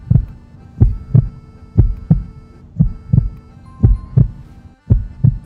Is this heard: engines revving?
no